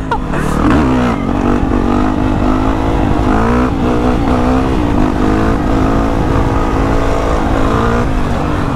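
A Sur Ron electric dirt bike pops a wheelie, its motor whining up in pitch and holding a loud, close, continuous drone with some rough mechanical rattle, no voices over it.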